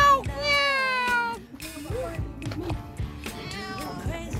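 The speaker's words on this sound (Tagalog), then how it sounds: "Meow!" A cat meows on a fishing trip in Fujairah, its drawn-out, rising and falling cries mixed with people talking nearby.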